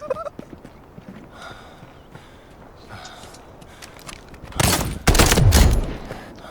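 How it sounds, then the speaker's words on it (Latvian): Gunfire from the video game Delta Force, a loud burst of shots near the end following a quieter stretch of game ambience. "Tepat šauj."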